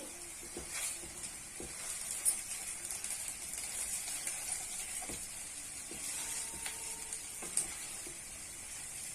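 Bread and egg pieces fry over low heat while being gently stirred in a pan, making a faint, steady sizzle with occasional soft scrapes and taps, no talking.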